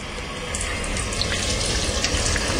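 Running tap water splashes steadily while a raw squid is rinsed out under the faucet, a loud, close, continuous gushing with small bursts of splatter.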